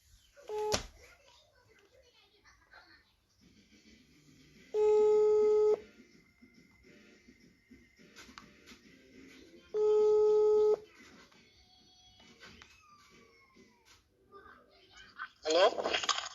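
Two bursts of a phone busy tone, each about a second long and several seconds apart, break up a quiet line with faint crackle and a voice speaking near the end.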